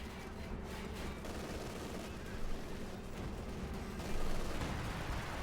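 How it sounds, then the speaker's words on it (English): Calliope rocket artillery in a Company of Heroes 2 match, heard as a steady, dense roar of distant bombardment and battle noise that stays constant throughout, swelling louder near the end. "we got more Calliope fire here"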